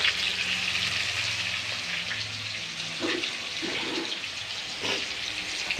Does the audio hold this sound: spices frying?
yes